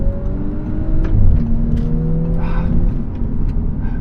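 A 2019 Audi S4 engine revs hard and climbs in pitch, dips briefly at the shift from first to second gear, then pulls again, loud and close from inside the car.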